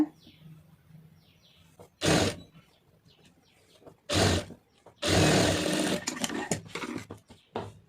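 Sewing machine running stitches around a lined blouse, in a few separate loud bursts of roughly half a second to a second, with quiet pauses and faint background sound between them.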